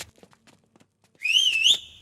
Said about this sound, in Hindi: तुझे सीटी बजाने आती है क्या?